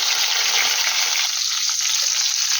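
Dried fish frying in hot oil, with a loud, dense, continuous sizzle and crackle close by and no talk.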